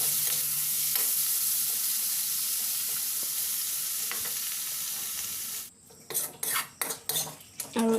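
A utensil stirs spiced food in a pan over a gas flame, first under a steady sizzling hiss, then as a run of distinct metallic scrapes and clinks once the sizzle drops away.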